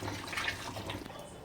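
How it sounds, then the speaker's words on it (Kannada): Water is poured into mutton masala while it cooks for mutton chops, making a soft, continuous splashing and hissing pour that lasts briefly, close by and with no talking. "ಮಸಾಲೆಗೆ ನೀರು ಬೆರೆಸ್ಕೊಳ್ತಾ ಇದ್ದೀನಿ"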